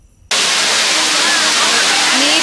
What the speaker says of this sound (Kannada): ಹತ್ರ ಬಂದಿದ್ದೀವಿ, ಹಿಂಗಿದೆ ಫಾಲ್ಸ್, ಚೆನ್ನಾಗಿದೆ ಫಾಲ್ಸ್